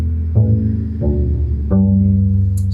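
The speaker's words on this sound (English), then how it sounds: "So I'm going to start off with pizzicato on the bass." A double bass is plucked pizzicato, four separate low, resonant string notes ringing one after another, close and clear.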